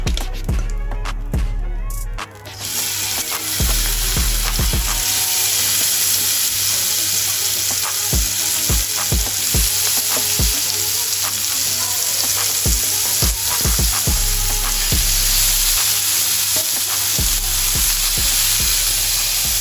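Prawns in a chilli, garlic and butter marinade hit a hot pan, a loud sustained sizzle with bubbling liquid, punctuated by repeated clicks and scrapes of stirring throughout.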